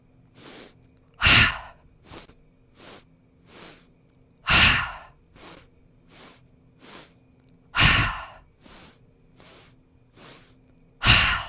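Exhales during a yoga sequence come in a steady rhythm. Strong, breathy sighs every three seconds or so alternate with softer breaths in between, close and clear, with no talking.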